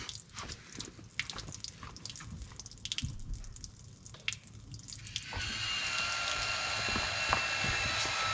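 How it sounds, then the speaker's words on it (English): An electronic drain valve on a van's water tank closing, with a series of small mechanical clicks and ticks over trickling water that gives way to a steadier whir and hiss toward the end. "Valve's closing."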